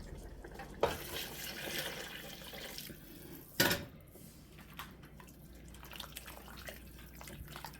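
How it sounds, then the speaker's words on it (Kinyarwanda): Boiled water is poured into a pot of chicken and macaroni with spaghetti sauce, a soft steady splashing stream with a couple of brief louder splashes, fairly quiet. "Murabona amazi nabijije hano, niyo tugiye guhita dushyiramo hano."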